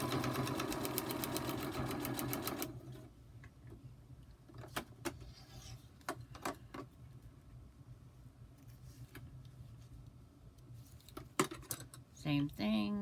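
A sewing machine stitches fabric for a hummingbird pattern in a rapid, even buzz for about two and a half seconds, then stops, leaving quiet clicks and handling noises.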